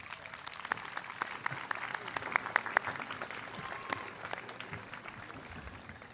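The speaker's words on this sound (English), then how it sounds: "show your appreciation towards your parents and families by giving them a round of applause" Audience applauding for parents and families at a middle school promotion ceremony, a dense, steady round of clapping lasting throughout, moderately distant, with a few sharper individual claps standing out midway.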